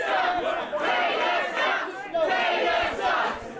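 A wrestling event crowd reacts with loud, sustained shouting and jeering in two big surging waves, dense and close, with no distinct speech.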